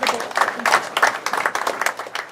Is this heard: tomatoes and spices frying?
no